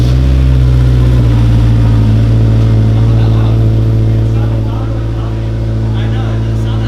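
Honda S2000 (AP1) with an Invidia N1 exhaust, starting up for the first time and settling into a loud, steady low idle rumble that holds throughout, with people talking over it.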